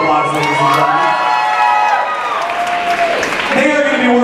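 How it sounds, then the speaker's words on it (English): A nightclub crowd at a drag show cheers, whoops and shouts over applause, loud and lively throughout with excited voices rising and falling. "Give them a big round of applause, ladies and gentlemen."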